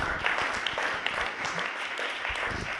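An audience at a Startup Maribor entrepreneurship event applauds the deputy mayor: dense, steady clapping from many hands fills the room for the whole stretch without letting up.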